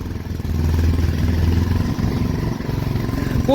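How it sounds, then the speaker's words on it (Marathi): A sport motorcycle engine rumbles steadily at close range, holding a low, even idle throughout. "स्पोर्ट बाईक आहे"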